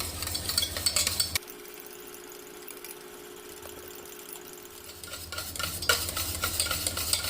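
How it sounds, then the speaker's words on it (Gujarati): Fresh cream (malai) being beaten continuously by hand in a bowl for mango ice cream, giving a busy, scraping whisking sound in close bursts at the start and end with a quieter stretch between. "આ મલાઈને આપણે આ રીતે લગાતાર હલાવતા રહીશું અને લગભગ ચારથી પાંચ મિનિટ જેવું લગાતાર એને ફેંટી લઈશું"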